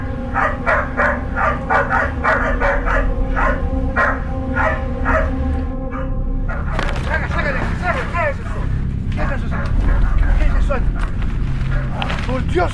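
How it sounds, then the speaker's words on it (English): A dog barks frantically in a forest, in quick repeated bursts, with loud agitated human voices shouting over and after it. "a group of farmers heard frantic barking and shouting coming from a forest"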